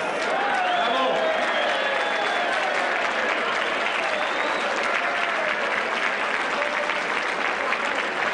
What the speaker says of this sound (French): à nous tous, applaudissons-nous